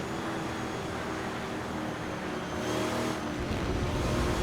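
Ferrari race cars roaring along a track in a racing sim set at 1966 Le Mans, a steady dense engine drone throughout that swells slightly near the end as cars pass close.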